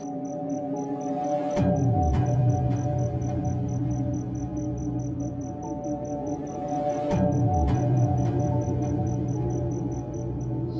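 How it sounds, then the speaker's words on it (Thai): Steady cricket chirping in a quiet, eerie night setting, a continuous high trilling with faint low rumbles and a couple of brief soft knocks. "ได้ยินเสียงจิ้งหรีดและลมหายใจตัวเองเท่านั้น"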